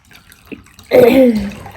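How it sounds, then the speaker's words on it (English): A towel dipped into a container of hot water gives a soft wet splash and dripping swirl lasting about half a second, close and fairly loud, after a quieter lead-in. "So I have hot water next to me here. I'm dipping my towel."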